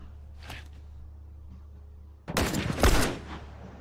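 Gunfire from the video game The Last of Us on PS4 Pro: a sudden, loud burst of rapid shots breaks a quiet, humming scene, then fades quickly into the background hum.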